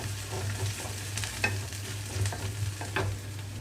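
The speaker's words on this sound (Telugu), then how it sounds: "ఇక్కడ నేను ఉల్లిపాయలు చూడండి చక్కగా వేగిపోయింది" Onions fry in a pan for a boondi milk curry, with a close steady sizzle and several distinct spatula stirs and scrapes over a low hum, no talk.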